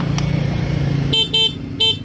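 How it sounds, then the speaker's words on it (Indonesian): Three short beeps from a WMoto Neutron electric motorcycle horn, the last two in quick succession, bright and close over a low idling hum. "Dengerin klaksonnya coba."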